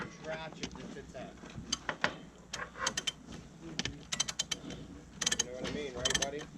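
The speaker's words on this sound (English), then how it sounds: "Half-inch ratchet that fits that." A half-inch ratchet turns on a skid steer drive sprocket, its rapid clicking coming in irregular bursts amid clanks and shop handling noise, with people talking nearby.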